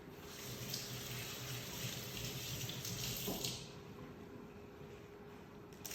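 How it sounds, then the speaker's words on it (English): A kitchen tap runs in a steady, close stream as hands are washed quickly while cooking chicken parmigiana. The continuous splashing rushes on alone, without voices. "Wash the hands here quickly."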